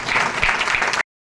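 Loud audience applause at a birthday celebration, a dense burst of clapping lasting about a second before cutting off abruptly.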